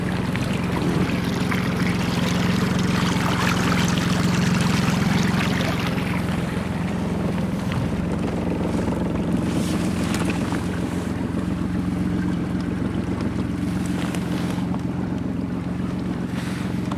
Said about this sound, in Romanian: Dă valurile de la barjă.